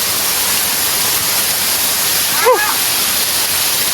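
Steady, loud roar of water falling at Cheli Kuzhi waterfall, a continuous wash of noise with a brief whistle-like call in the middle.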